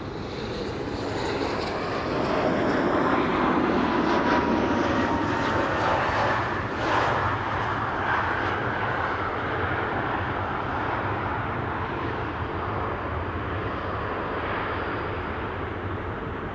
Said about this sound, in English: This is KLM flight